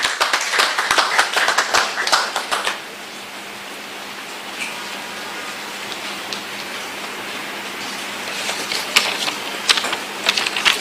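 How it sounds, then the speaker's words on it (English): A meeting of Ghana's police chief with political party executives ahead of the 2024 general election applauds a candidate's representative: a burst of crisp group clapping, a quieter lull, then a second, sparser round of claps near the end. "Please let's clap for him"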